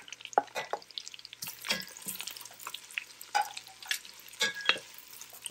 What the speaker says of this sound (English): So I'm going to add onions next with the green chili. And the onions, you have to fry them a little darker